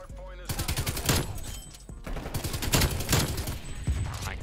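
An RPD machine gun in Black Ops Cold War fires in fast, loud bursts with brief pauses between them, and the rattling shots run through the whole stretch.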